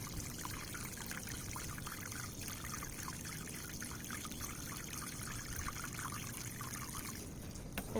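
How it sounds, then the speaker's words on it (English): Water pours from a container into a hole dug in dry, poor garden soil beside a plant, a steady close trickle and splash lasting throughout with no talk. "I'm going to fill it with water, and I'm going to water the plant at the same time."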